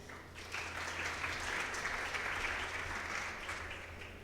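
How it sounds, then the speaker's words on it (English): Sustained applause from an audience in a large conference hall at a business interview event, steady and moderately loud throughout with no talking over it. "Please give them a warm welcome of applause."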